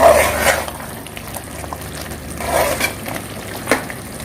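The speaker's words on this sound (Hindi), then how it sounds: "इसको इस तरह भूनते रहेंगे हम" Chicken for biryani fried with green chillies and chilli masala, a continuous loud sizzle with bubbling and occasional stirring scrapes, close up, no voices.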